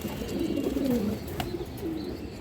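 A female pigeon coos in low, warbling phrases close by over a steady hiss of background noise, with a brief sharp click midway.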